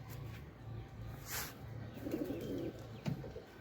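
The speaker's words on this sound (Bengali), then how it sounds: "কবুতরটা ঢুকছে দেখেন ডাকতেছে" A pigeon suffering from a cold gives low, soft cooing calls close by, a few short murmured phrases over a faint steady background hum.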